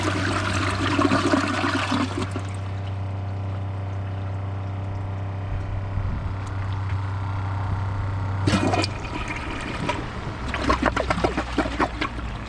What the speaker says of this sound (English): let's first give them a flush and see which one you like better.